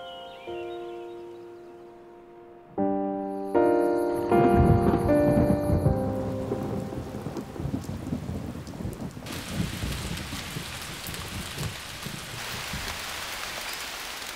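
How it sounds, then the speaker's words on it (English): A September rainstorm takes over after gentle musical notes fade: a dense hiss of heavy rain with low rumbling thunder, loud and continuous to the end. "A September rainstorm brings some unwelcome guests."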